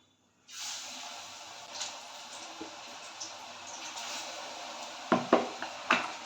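Onion pakoras drop into hot oil in a kadai, setting off a sudden loud hiss that settles into a continuous frying sizzle, with a few sharp clanks near the end.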